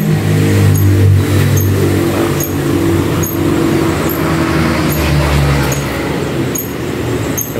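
Water delivery truck engine idling and running close by outdoors, a loud steady low rumble with slight throttle swells and faint rattling throughout.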